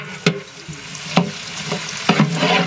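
Raisins fry in hot desi ghee in a pan for village-style fried rice: a steady background sizzle is broken by three sharp stirring knocks spaced about a second apart, close and fairly loud.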